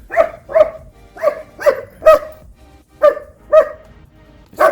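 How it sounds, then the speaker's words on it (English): A dog barks repeatedly beside a backyard pool, about nine sharp, loud barks in an uneven rhythm, close to the listener, with no one talking. "this dog keeps barking because he doesn't like me going in the pool"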